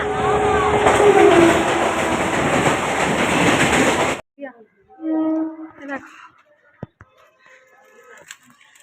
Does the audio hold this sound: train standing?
yes